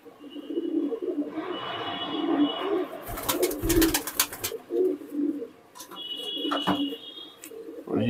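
Pet pigeons, including dubwalay and teedy kabutar breeds, coo in low rolling phrases close by, mixed with bursts of wing flapping and a few higher chirps.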